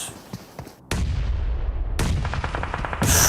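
In PUBG Mobile, heavy gunfire bursts and a booming grenade explosion follow one another in loud, close blasts with rattling shots between them.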